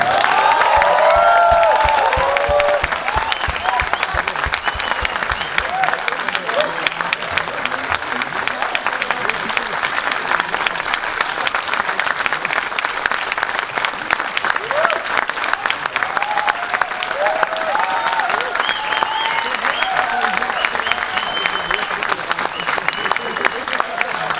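Sustained, dense applause from a theatre audience at the close of a Hindi stage play by the Rangnaad group, steady and loud for the whole stretch, with some voices over the clapping.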